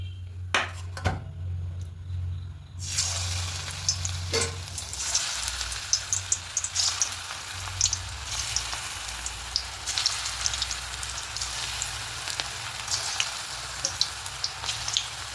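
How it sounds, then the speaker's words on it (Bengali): Cabbage pakora fritters go into hot oil in a wok: after a few quiet seconds with a couple of clinks, a loud, crackling sizzle starts and keeps bubbling steadily up close. "কড়াই বসিয়ে কড়াই তেল দিয়ে তেলটা গরম হয়ে গেছে এবার বড়াগুলো একে একে দিয়ে দেবো"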